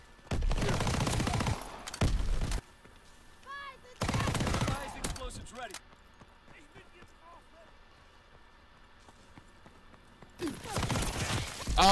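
Bursts of Thompson submachine gunfire in Call of Duty WWII come in loud rapid volleys at the start, again mid-clip and at the end, with quieter battlefield noise and ringing tones in between.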